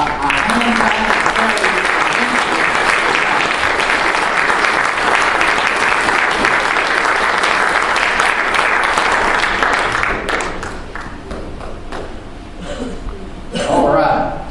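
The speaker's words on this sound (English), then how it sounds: "let's give God a hand clap." A church congregation gives a loud, sustained round of applause for newly introduced pastors, dense clapping that fades after about ten seconds into quieter scattered claps and murmuring before a brief swell.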